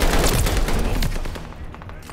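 Dense gunfire crackles around a contested hardpoint in the World War II shooter Call of Duty: Vanguard, with rapid automatic bursts and loud overlapping shots that ease slightly toward the end.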